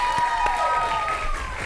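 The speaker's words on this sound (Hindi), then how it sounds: "बहुत सारी तालियां" A live show audience claps in a sustained round of applause while a voice talks over it and tonal music sounds underneath.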